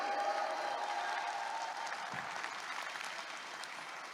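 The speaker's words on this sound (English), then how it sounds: "Can we give RIWAY a round of applause today?" Steady applause from an audience at a company business seminar, a dense wash of many hands clapping at an even level that thins out slightly toward the end, with no voices over it.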